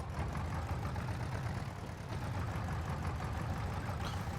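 A tractor engine in Farming Simulator 22 on the Haut-Beyleron map gives a low, steady idling rumble with a slight knocking texture, held evenly at a moderate level with no talk.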